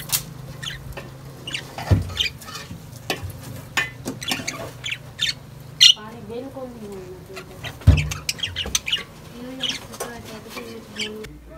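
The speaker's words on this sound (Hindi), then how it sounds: "जो तोता है आपस में ये फुल मस्तियाँ कर रहे हैं, और इनकी मीठी मीठी आवाज़ देखें" Parrots chirp and squawk in short, irregular bursts in a Pakistani village, some shrill calls standing out over a steady low background hum and occasional clatter.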